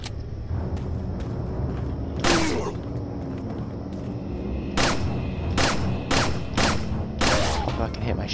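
Gunshots ring out in the video game Resident Evil 4, a series of sharp, loud bursts spaced irregularly over several seconds, several coming in quick succession toward the end, over a low background hum.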